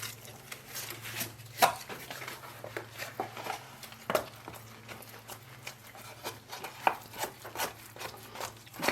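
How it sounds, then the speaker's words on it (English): Tile grout stirred in a bucket with a scraping, knocking mix of thuds and rubs in an irregular rhythm, close up, fairly quiet and without talk. "let's mix this grout so there's a sort of like a peanut butter consistency"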